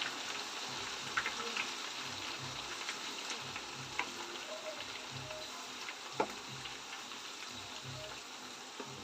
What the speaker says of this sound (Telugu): అల్లం చిన్నులపాయ పేస్టు కలర్ మారేంత వరకు మనము ఫ్రై చేసుకోవాలి